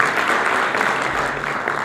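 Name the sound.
audience applause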